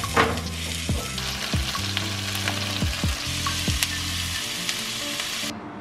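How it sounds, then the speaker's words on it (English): A gochujang shirataki noodle and beef stir fry, with some veggies, sizzles steadily in a pan, loud and close, with rhythmic scraping strokes of a utensil stirring throughout. "I'm planning to cook a gochujang shirataki noodle stir fry kind of thing and throw in some beef in there"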